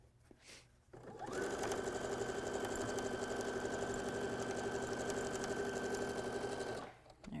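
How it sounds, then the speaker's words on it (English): A sewing machine runs steadily for about six seconds, stitching nested quarter-inch seams on a Civil War-style quilt block. The motor whirs close and even from start to finish, with no talk over it. "I'm just going to nest those seams right together and take it to the machine and stitch with that same"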